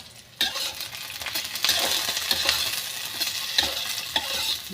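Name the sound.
chili chicken ingredients frying and being stirred on low gas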